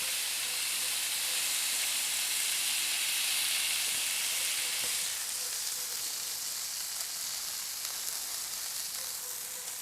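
Cheeseburger patties fry on a hot griddle with a loud, steady, hissing sizzle that holds throughout. The hiss drops slightly in brightness partway through and carries no talk.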